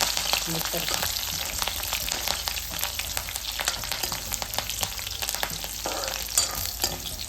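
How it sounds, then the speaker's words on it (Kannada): Curry leaves fry in hot oil for drumstick sambar, giving a dense, continuous sizzle and crackle with the scrape of stirring, loud and close throughout, with no talk. "ಈಗ ಸ್ವಲ್ಪ ಎಣ್ಣೆ ಎಣ್ಣೆ ಕೆಂಪು ಆಗೋವರೆಗೂ ಫ್ರೈ ಮಾಡ್ತೇನೆ"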